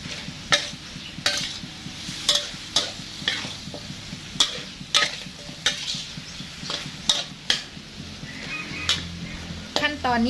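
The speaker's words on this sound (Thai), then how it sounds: "ผัดให้เข้ากันค่ะ" Spicy Thai-style chicken with sugar stir-fried in a pan, a regular rhythm of loud utensil scrapes against the metal over a steady sizzle, with soft talking in the background.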